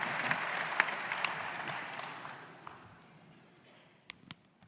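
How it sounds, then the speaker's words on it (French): Applause from a congress audience of Coop de France greets Michel Prugue, a full round of clapping that slowly dies away over a few seconds, followed by a couple of isolated knocks. "On l'applaudit bien fort"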